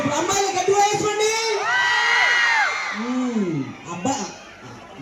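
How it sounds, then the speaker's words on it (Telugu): A festival crowd at a musical night of the Venkatagiri Sri Poleramma fair shouts, whoops and cheers loudly in sustained waves, with a speaker's voice rising over the noise. "ఊళ్ళ మీద బాగానే అరుస్తున్నారు అయితే."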